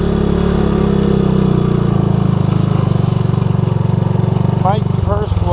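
A 1984 Honda ATC200S three-wheeler's single-cylinder engine runs steadily nearby with a loud, even putter, and a voice speaks briefly near the end.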